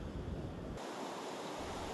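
Ocean surf crashes around the offshore Tanah Lot Temple, a Hindu shrine on a rocky outcrop in Bali, giving a loud, broad roar with a deep rumble that thins abruptly, plus some wind buffeting.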